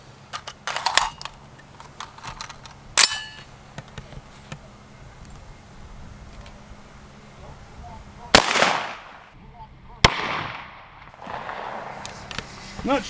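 A single sharp report from an AR rifle chambered in 350 Legend firing a 145-grain 9mm bullet at a Kevlar helmet outdoors, followed by another loud crack a moment later amid faint background sound.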